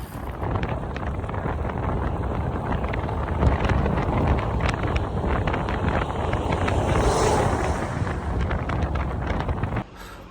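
Strong wind buffets the microphone of a cyclist riding across Canada, a loud continuous roar with gusting bursts that drops off abruptly at the end.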